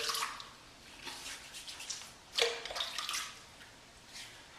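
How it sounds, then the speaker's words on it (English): Water splashes softly in brief bursts as a dual-head safety razor is rinsed, faint and close with no talk over it. "I'll just perform a slight rinse now."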